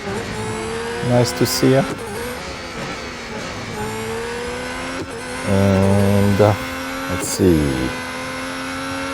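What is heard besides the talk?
Formula 1 cars racing in Real Racing 3 video game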